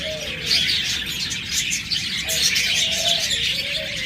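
Pet lovebirds, cockatiels and budgerigars chirp and call continuously in a busy aviary chorus, with bright overlapping tweets and a few short whistled calls standing out, steady and fairly close, with no talking.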